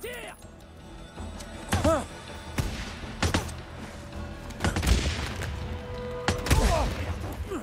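Gunfire in the video game Days Gone comes as scattered loud shots and thumps amid game effects, while a person talks excitedly over the action.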